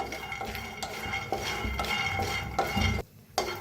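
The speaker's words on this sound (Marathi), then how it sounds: "तर कढाई ठेवलेली आहे, शेंगदाणा चांगलं भाजून घेऊया" Peanuts dry-roasted in a kadhai, a spoon scraping and stirring them against the metal pan with rattling, clinking strokes at close range and a short pause near the end; no talking.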